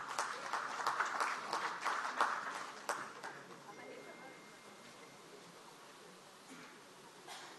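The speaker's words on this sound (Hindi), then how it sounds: "हम जोरदार तालियों के साथ आदरणीय श्री अर्जुन खोतकर जी का स्वागत करेंगे।" Audience applause welcomes Arjun Khotkar at a national conference of legislature Estimates Committees inaugurated by the Lok Sabha Speaker, loudest at the start and thinning to a few scattered claps in a large hall.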